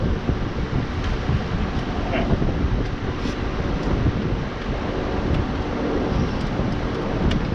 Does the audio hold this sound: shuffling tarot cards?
no